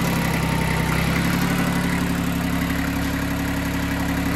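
An Iseki TX1410 tractor engine runs steadily nearby with a constant, throbbing idle-like drone, moderately loud and unchanging, with no talking.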